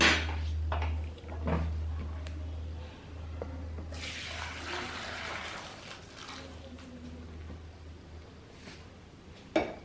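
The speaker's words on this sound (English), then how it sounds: "Now we are going to drain this water." Water pours and splashes steadily for several seconds as cooked whole wheat noodles are drained from a pot, with a low hum underneath and a few clunks near the start and end.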